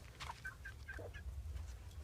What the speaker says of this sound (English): There's my black Cochin over there.